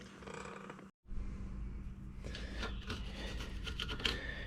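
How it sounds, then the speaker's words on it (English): A tool scratches and scrapes accumulated old grease off planter and fertilizer parts, making a continuous close rasping, broken by one short pause, with irregular grating bursts toward the end. "I'm over here just scratching on all this grease that's accumulated on this thing over the years"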